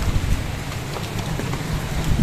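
Steady rain falls outside an old church in Hagonoy, Bulacan, a dense, even hiss with faint scattered drops and a low rumble underneath, continuous with no voices.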